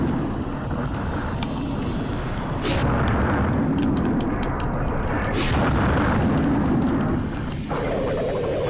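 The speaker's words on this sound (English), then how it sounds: "You can drop the depth charge. You can do a surface mine, like so, and then you can do a stationary mine." Underwater mine blast in the PS1 game Critical Depth, a deep rumbling boom swelling midway and rolling on with sputtering crackle, heavy low-end throughout.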